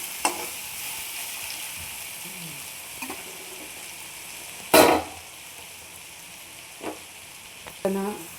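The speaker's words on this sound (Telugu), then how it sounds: "ఇలా కలుపుకుంటూ ఉంటే అవి మగ్గుతూ ఉంటాయి." Ivy gourd frying in oil gives a continuous soft sizzle, broken by a few scraping stirs and clinks of the spoon against the pan. The strongest stir comes midway and lighter ones follow. No one talks.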